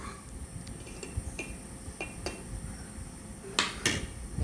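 Dry semolina, gram flour and clove powder stirred in a bowl, with a spoon scraping and tapping against the sides in irregular light clicks and a few sharper knocks near the end.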